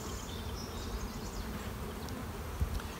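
Honey bees buzz densely around an open hive during a beekeeping class inspection of a colony with virgin queens, a close, continuous droning hum with a small knock near the end.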